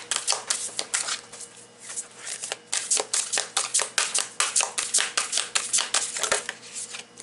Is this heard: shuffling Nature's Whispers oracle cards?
yes